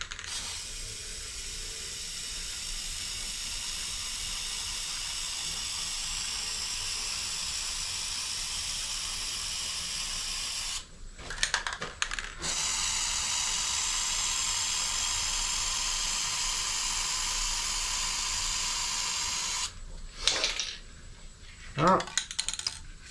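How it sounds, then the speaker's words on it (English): Clear coat sprayed onto a meranti and resin placemat turning slowly on a lathe at 50 RPM: a long, steady airy hiss that runs unbroken, briefly stops, resumes for a second pass, then gives way to a few clicks and handling noises. "we'll spritz it with some clear"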